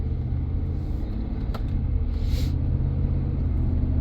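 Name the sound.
2009 Ford F150 5.4 truck driving, accelerating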